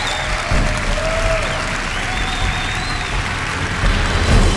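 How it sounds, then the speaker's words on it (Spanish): Loud, sustained audience applause at a televised talent show as a contestant is called to the stage, steady clapping from a large crowd with a brief swell near the end. "Marie, con este fuerte aplauso del público."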